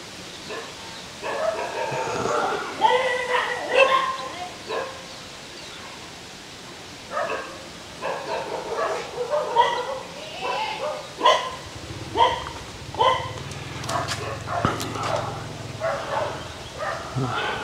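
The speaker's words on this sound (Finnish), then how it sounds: "ongelmia taas rouvan siskon koiran kanssa." A dog barks in repeated bursts at moderate distance, with sharp yips and a whimper among the barks, while a person talks intermittently in the foreground.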